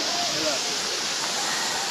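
Sirimane waterfall pouring with heavy force, a dense continuous roar of falling water filling the whole moment, loud and close with no break.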